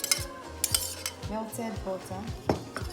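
A utensil stirring a bread bun mixture in a bowl, a quick series of metallic scrapes and clinks against the dish, close and distinct, no talk.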